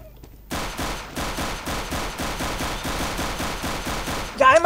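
Steady, rapid gunfire in the CS:GO video game, about four shots a second for roughly four seconds, loud and close, ending in a brief burst of other game sounds.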